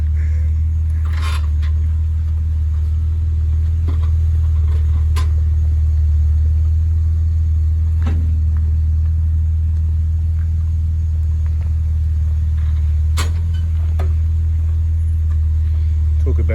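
A Nissan 4x4 crawls down an off-road track on Mt Disappointment, giving a steady, heavy low rumble throughout with occasional scrapes and knocks over the top.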